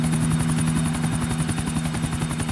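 A helicopter in the GTA video game churns with a steady, rapid rotor chop over a constant engine hum, close and continuous for a couple of seconds.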